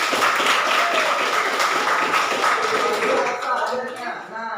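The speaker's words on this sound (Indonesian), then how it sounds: "tepuk tangan bagi ini" Classroom audience applauding a student's answer during a teaching-practice lesson, a dense wash of clapping that fills the clip before gradually thinning out toward the end.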